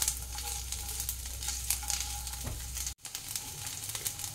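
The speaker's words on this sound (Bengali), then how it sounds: "দুটো একটু ভালো করে ভেজে নেব, একটু দাগ দাগ করে ভেজে নেব নারকেলটা।" Grated coconut and peanuts sizzle steadily in a hot pan, a continuous crackling fry that cuts out briefly near the end.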